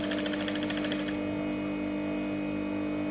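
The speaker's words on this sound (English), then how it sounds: "so I'm stitching the down part of my sleeve" A sewing machine stitches the lower part of a fabric sleeve with a steady mechanical whir and a rapid needle rhythm that fades after about a second, leaving a continuous motor hum with no talking.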